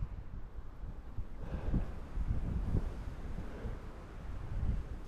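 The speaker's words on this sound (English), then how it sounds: "You can probably hear the wind." Wind gusting by a riverbank during dry fly fishing, a steady rushing buffet on the microphone that swells and eases over a few seconds, with no talk.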